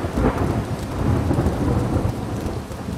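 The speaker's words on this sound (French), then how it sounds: "Un éclair zébralait, suivi d'un magistral coup de tonnerre." A powerful thunderclap booms during a heavy storm, its deep rolling rumble rising and lingering over steady pouring rain, loud and close with no voices.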